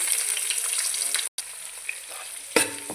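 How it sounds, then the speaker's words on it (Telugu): Onions and green chillies sizzle and fry in a pan, a steady crackling hiss with a short stir and a brief clatter near the end, close by and with no talk. "ఆనియన్స్ పచ్చిమిర్చి కూడా వేసానండి"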